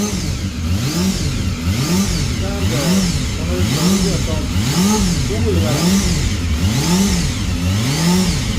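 A motorcycle engine revs repeatedly in a steady cycle, rising and falling about once a second, loud and close throughout.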